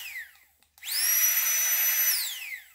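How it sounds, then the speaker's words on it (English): A FlexTail Gear tiny pump, a pocket compressor and torch used to inflate a mattress, spins up to a high, steady electric whine, holds it for over a second, then winds down as the motor slows. "This is a FlexTail Gear tiny pump. It's a torch and a compressor pump."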